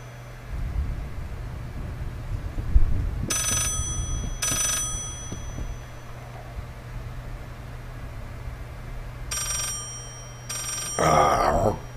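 An old-fashioned telephone bell rings in bursts inside the horror video game Layers of Fear: two pairs of sharp metallic rings separated by long pauses, over a low droning ambience.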